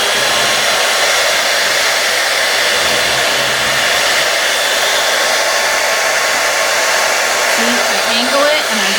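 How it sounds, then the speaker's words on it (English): A hair dryer blows at an angle onto paper with a loud, steady whooshing roar throughout, close to the microphone, with a faint voice briefly near the end. "I'm gonna take my blow dryer, and instead of going up and down like this, we're gonna angle it"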